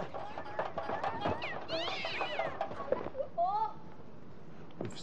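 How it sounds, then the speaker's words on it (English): Cat meowing in distress after being pressed against a tree trunk by a ladder, a few rising and falling cries mixed in with people talking nearby. "Squashed the cat against the tree trunk with the ladder."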